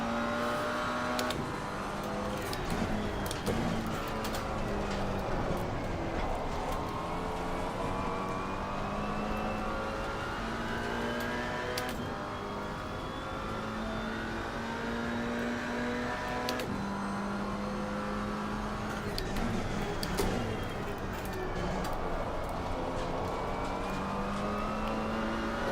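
Steady, loud engine of a McLaren 570S race car at Watkins Glen in Assetto Corsa Competizione, rising in pitch through the gears, dropping back on braking and climbing again in repeated cycles, with no talk.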